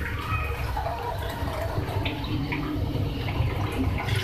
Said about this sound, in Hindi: फिर चार ग्लास में इसमें पानी ऐड कर रही हूँ।